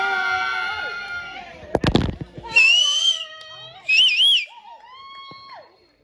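A birthday group shouts and screams together in a burst, followed by loud, shrill whistles rising and sliding in pitch, several whistle blasts spread over a few seconds in a lively room with voices around.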